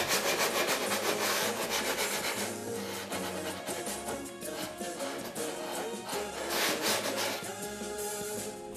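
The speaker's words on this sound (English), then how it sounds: "Get our sanding block." A sanding block rubs back and forth over wood in steady, rhythmic strokes, a close, raspy scraping that repeats without pause.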